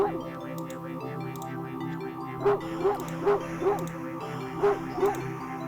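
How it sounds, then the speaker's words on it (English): A large dog barks excitedly in a quick run of about six sharp, yelping barks midway through, heard over a steady low hum with a voice talking throughout. "a series of excited barks jerks your gaze forward, and you see a large dog sprinting towards you"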